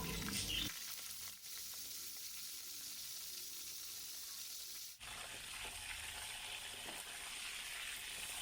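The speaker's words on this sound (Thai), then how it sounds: "ในส่วนของปลานะคะ เราก็คือจะทอดให้มันกรอบเลยนะคะ" Steady crackling sizzle of stingray fish frying crisp in hot oil, close and constant, with a couple of brief shifts in the hiss.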